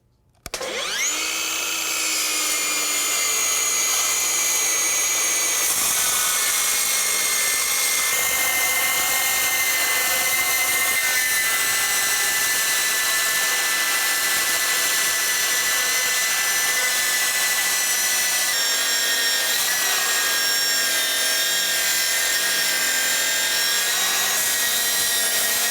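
Cutting a piece for a lathe coolant tank: after a sharp start, a loud, sustained, high-pitched saw whine holds steady and uninterrupted for about twenty-five seconds.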